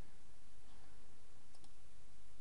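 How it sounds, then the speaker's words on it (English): A computer mouse right-click gives a couple of quick, faint clicks in close succession near the end of a short stretch of steady room noise. "So I'm going to right click and copy"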